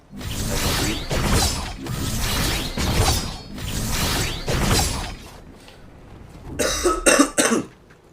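A person coughs repeatedly in a rhythmic run of about five harsh coughs, close and fairly loud, then a pause followed by a few sharp clattering clicks from a Fortnite match.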